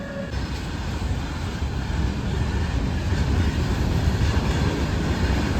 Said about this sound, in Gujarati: આજે રેલવે સ્ટેશન પર રેલ આવી ગઈ.